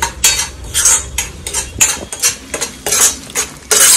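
A metal spoon mixes chicken pickle in oil inside a pot, scraping and clinking in a steady, loud rhythm of repeated strokes up close.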